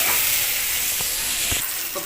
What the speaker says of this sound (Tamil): அந்த வெங்காயத்தையும் இதில் போட்டு வதக்கிக்கிறோம்.